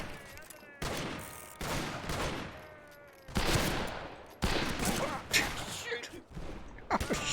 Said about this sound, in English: So we're just shooting at each other with no reason whatsoever.